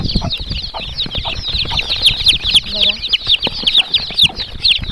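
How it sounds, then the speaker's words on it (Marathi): A crowd of two-to-three-day-old Kadaknath chicks peeps continuously in high, rapid chirps, close and busy, while someone briefly speaks over them. "तुम्ही खूप छान पिल्लू आहेत कडकनाथ कोंबडीचे पिल्लू आहेत"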